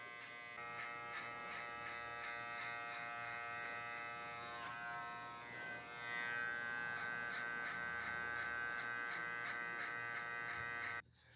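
Electric hair clippers buzz steadily and close during a low skin fade haircut, a bright continuous whine that shifts slightly in tone midway and cuts off abruptly at the end.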